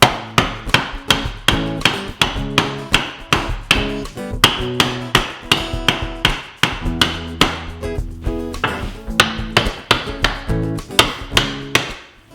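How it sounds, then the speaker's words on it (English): A hammer taps wooden arms into place on a lumber rack in sharp, regular blows, about two per second, loud and close, with no talking. "they just need a little convincing with the hammer"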